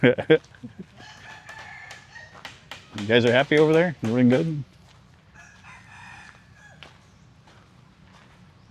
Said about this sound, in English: there's like 3 or 4 chickens out here